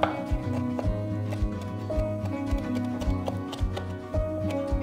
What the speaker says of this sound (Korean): 이제 새우 다지기 시작할게요